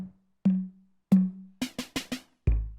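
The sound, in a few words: electric guitar through Fulltone Choral Flange chorus pedal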